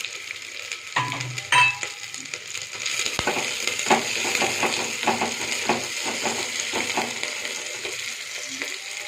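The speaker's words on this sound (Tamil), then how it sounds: "எண்ணெய் ஊற்றி கடுகு போட்டு வெங்காயம் பூண்டு போட்டிருக்குது, வணங்கட்டும்." Onion and garlic frying in oil with mustard seeds in a pan, a sustained close sizzle with a few knocks early on, then a run of rapid crackles and spatula stirs, no one speaking.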